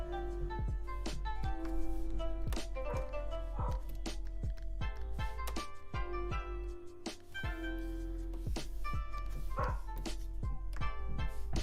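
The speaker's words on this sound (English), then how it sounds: "Maybe in the background you can hear my dog." A pet dog sitting by a window barks at passing animals and other dogs, sharp repeated yaps scattered through a steady background hum, fairly clear and recurring every second or so.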